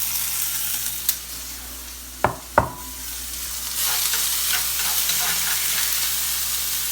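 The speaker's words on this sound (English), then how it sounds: "there goes the onions. Yeah, always that wow, that sound of onions and fries" Onions hit a hot frying pan with a sharp burst of sizzling, a couple of loud clanks as they drop in, then a steady bright hiss continuing up close.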